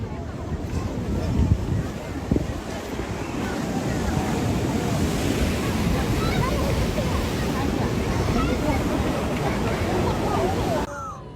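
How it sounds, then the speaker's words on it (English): Tidal bore waves surging up the Qiantang River during typhoon-boosted astronomical tides, a loud, continuous roaring wash of turbulent water with wind buffeting, steady throughout and cutting off abruptly at the end. "the overlap between the typhoon and astronomical tides will cause the tide to become more turbulent and may even overflow the riverbank"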